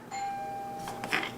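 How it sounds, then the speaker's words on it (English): A doorbell chimes indoors, its sustained tones ringing out clearly and fading, followed by a couple of brief rustling knocks near the end. "My doorbell just rang."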